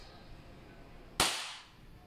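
A WE Glock 35 Force T7 airsoft gas blowback pistol fires a single sharp, loud shot with a quick hissing tail, after a quiet stretch of faint room noise.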